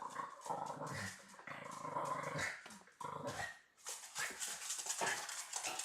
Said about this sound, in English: Very polite dog.